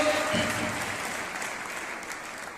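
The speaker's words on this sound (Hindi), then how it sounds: "जोरदार ताली लगा दीजिए।" Sustained applause from a crowd fills the space, an even wash of clapping that holds steady throughout.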